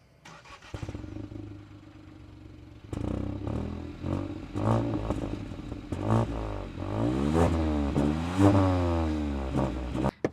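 Hyundai i20 N-Line engine and exhaust while driving: a starting crank and idle, then a rising, throaty engine note that climbs through several revs and gear changes, loud and close, with no talk over it.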